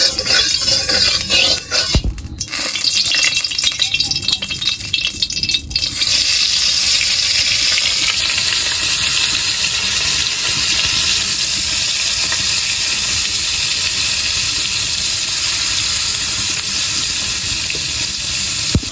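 Salted, turmeric-rubbed fish slipped into hot oil in a wok: a brief clatter, then a loud, dense, continuous sizzling hiss that holds steady to the end.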